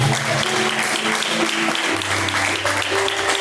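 A church congregation claps together during a lively service, steady massed clapping throughout with a sustained musical tone underneath and a voice faintly present.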